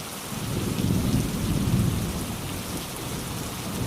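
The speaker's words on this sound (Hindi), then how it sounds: "बाहर मूसलाधार बारिश हो रही थी" Heavy downpour of a thunderstorm, with a dense steady hiss of rain and a low rumble of thunder swelling in the first half before easing back under the constant rainfall.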